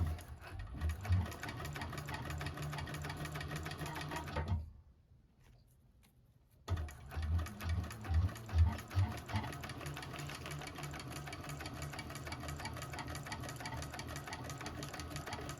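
A 1341 cylinder arm sewing machine stitches a bag in quick, rhythmic bursts of needle chatter, stopping for a brief quiet pause midway, then running again in a steady mechanical patter.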